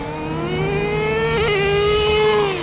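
A nitro RC car engine revs loud and close, its buzzing whine climbing briefly in pitch before settling, continuous over the whole stretch with no talking.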